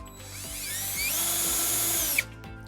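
A power drill drives a self-tapping screw into a trailer wiring connector mounting bracket on a 2021-2025 Ford Bronco Sport, a steady loud whine rising in pitch for about two seconds, then stopping abruptly with a brief click.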